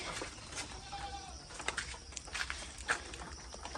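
Goats bleat faintly in short calls at a farm, several quiet cries scattered over low background noise.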